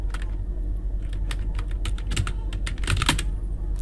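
Someone types a Trello board name on a computer keyboard, with quick, uneven clicks of keys that bunch into short bursts, close and clear against a faint background hum and no talking.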